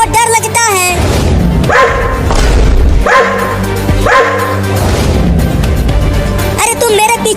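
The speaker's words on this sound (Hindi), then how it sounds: "अरे देखो वो कुत्ता कितना बड़ा है और वो गुस्से में भी है।" A big, angry cartoon dog barks in a run of loud, rough woofs, with several bursts repeating over roughly seven seconds, mixed with background music and close, raised voices.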